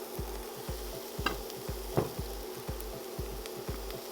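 Chicken stir fry sizzles steadily in a hot pan while a utensil stirs and scrapes in a quick regular rhythm, close and fairly quiet.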